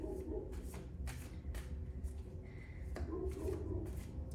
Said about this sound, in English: I want to pull an advice card for Gemini.